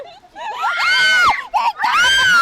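A person screams on The Plunge ride in Bohol, with several loud, close, drawn-out shrieks broken by a short gap, and other voices mixed in.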